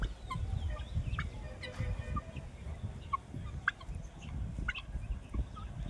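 Turkeys on a home backyard plot gobble in short repeated bursts among scattered fowl calls, moderately close, with steady low rumbling background and no talking.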